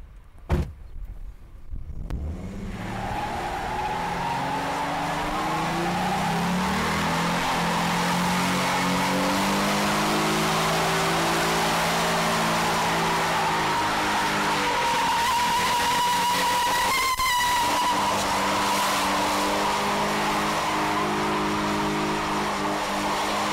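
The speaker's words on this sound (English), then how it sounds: "I'm going to smoke some tires." A 2011 Ford Mustang V6 fires up and holds a long burnout, its engine revving hard as the tires squeal continuously and loudly with a rising, wavering pitch.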